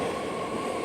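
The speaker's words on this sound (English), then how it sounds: "Here comes my train." A train rolls in with a continuous, dense rumble and rushing rail noise, loud and steady throughout the brief moment.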